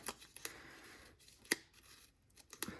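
Scissors snipping a paper fringe for a rainbow gift box, a few quiet crisp cuts spaced irregularly, close up with no talking.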